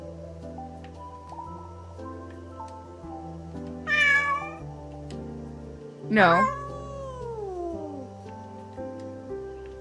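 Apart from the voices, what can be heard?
calico cat meowing in a video game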